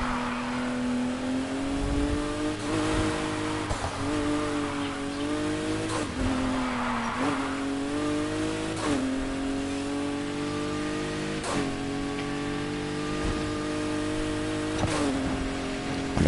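A Nissan Fairlady in a Need for Speed racing game runs hard, its engine droning loud and steady while rising and falling through repeated gear shifts across the whole stretch.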